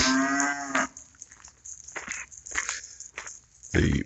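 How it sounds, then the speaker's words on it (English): A cow moos loudly and close by, followed by shorter lowing calls and rustling movement. "get the little twerp there that's mooing at me"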